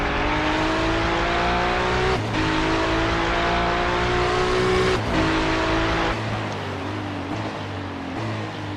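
An LMP2 prototype race car in the iRacing game at the Daytona 24 Hour, its engine droning loudly and rising through gears with brief dips at each shift, steady and close throughout.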